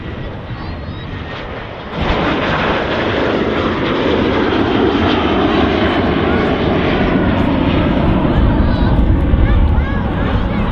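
An aircraft at Manchester Airport, heard as a loud, steady engine roar that swells sharply about two seconds in and then holds, with voices talking underneath.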